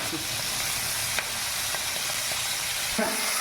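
Tengra fish frying in hot oil in a kadai, giving a steady, close sizzle that runs the whole time with a few faint clinks and no talking.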